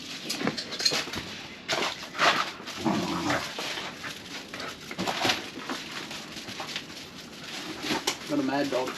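At a riverside caravan park, a dog barks and whines in short bursts among nearby people talking, with birds calling faintly in the background.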